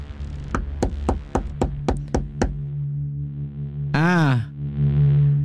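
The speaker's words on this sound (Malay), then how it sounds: "Dan dia terus mengetuk pintu rumah." Knocking on a house door: a quick run of about eight sharp raps over a steady low drone, followed by a sweeping tonal swell.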